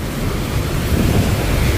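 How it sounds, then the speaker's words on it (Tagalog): Strong wind roars and buffets continuously, a loud rushing noise with rumbling gusts and no voices. "Lakas ng hangin din."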